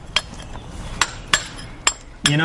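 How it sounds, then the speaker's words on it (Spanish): Workers break rock with hammers and chisels, sharp metallic strikes ringing out about five times at uneven intervals over a quiet background, with a brief ringing clink at the end. "los obreros corrían hasta la roca y la rompían con martillos y cinceles"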